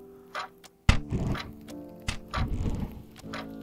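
Bowstring releases and arrow impacts from archery in a virtual reality game, a few sharp thunks and clicks spaced across the moment, close and fairly quiet, with no talk.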